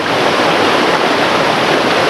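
Rushing creek water at the junction of Reeds Creek and Spring Creek near Woolshed Falls, a steady, loud, close wash of flowing water with no voices.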